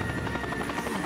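A helicopter in the video game Dead To Rights gives off a loud, continuous rotor chop, its fast steady beats thudding close and unbroken, with no talk over it.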